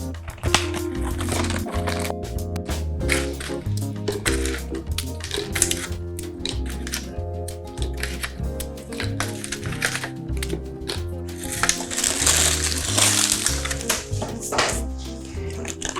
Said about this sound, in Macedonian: Само скршете и ставете.